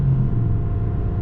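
A 2021 Chevy Duramax 3.0 diesel in a truck loaded to 12,000 pounds, engine braking downhill: a steady, low, droning hum held at high revs, close and continuous.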